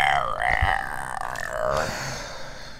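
A long, loud, deep burp after gulping down a 2-liter bottle of soda, rumbling and croaking close up for nearly three seconds with a wavering pitch.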